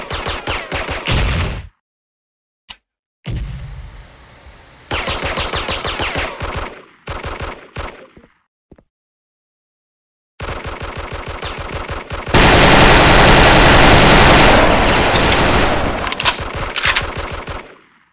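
Bursts of automatic rifle fire from a SKULD FN FAL in the shooter game Special Force, loud and close, coming in several rapid volleys broken by short silences, then one long sustained stretch of continuous firing near the end.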